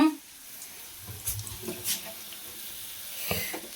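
Rice poured into a pot of boiling water for chicken dum biryani, a brief soft rushing splash and bubbling burst near and fairly quiet, followed by light kitchen clatter.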